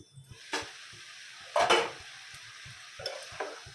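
Boti curry frying in a pan on high flame, with a low simmering sizzle and a few louder bursts of stirring and scraping, close and intermittent, no talking.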